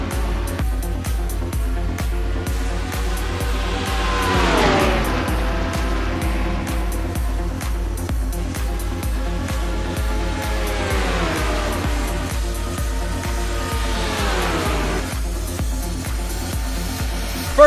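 Race cars in a video game race at an Oklahoma track, engines droning at an even pitch and swelling into repeated pass-by sweeps against a steady pulsing hum.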